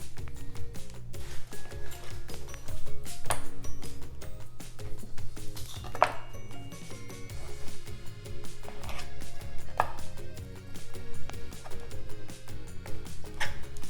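A knife slicing through a very wet block of whole milk mozzarella on a board, repeated soft cutting taps and a couple of sharper clicks over a steady low hum.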